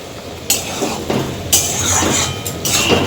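Spices being stirred and fried in a pan with the water released from eggplant, a utensil scraping and clinking against the metal in repeated strokes about once a second, close and fairly loud.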